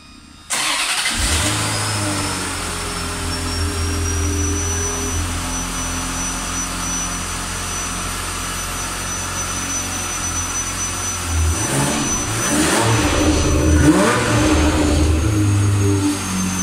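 A Ferrari 355 F1 Berlinetta on its factory exhaust fires up with a sharp start and then settles into a loud, steady idle close by, before rising revs surge in toward the end.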